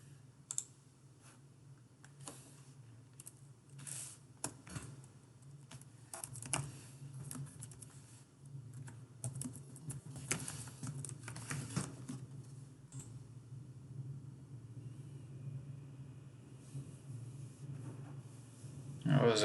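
Irregular clicking of keys being typed on a computer keyboard, fairly close, over a low steady hum, with a few louder taps scattered throughout.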